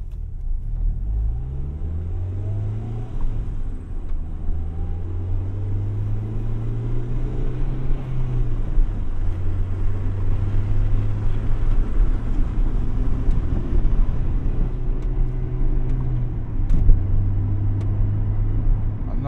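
A 1998 Acura Integra Type R on the move, heard from inside the cabin: a steady engine drone that rises and falls with gear changes, over continuous road rumble.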